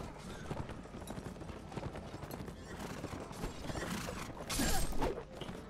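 Horse hooves clip-clop at a steady gallop in the video game The Last Days of the Third Age, with a brief whinny and creaking tack over a busy background of game ambience, and no talk.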